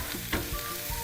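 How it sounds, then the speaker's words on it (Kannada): Cubed paneer frying in a hot pan for a paneer pepper fry, giving a loud, continuous dense sizzle with a faint stirring scrape, heard close and alone. "ಆ ಕ್ಯೂಬ್ ಆಗಿ ಕಟ್ ಮಾಡ್ಕೊಂಡಿರೋ ಪನ್ನೀರನ್ನ ಆ್ಯಡ್ ಮಾಡ್ತಾಯಿದ್ದೀನಿ"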